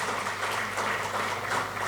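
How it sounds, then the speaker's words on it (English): An audience at a panel discussion gives a continuous round of applause for the panelists, dense and even throughout, with no talk over it. "a big applause for all our panelists"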